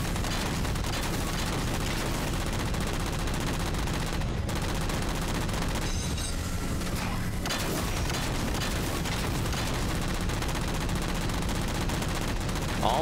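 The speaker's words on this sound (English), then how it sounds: "All of those rockets didn't do the job, huh?" Rockets fired and exploding in Halo 4, blended into a nonstop wall of gunfire, heavy booms and battle noise, loud and dense throughout with barely a break.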